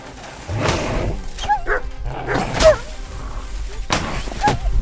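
A dog in Kingdom Come: Deliverance 2 barks and yips in several short, sharp bursts over a low game ambience, with brief whimper-like cries between them during a fight.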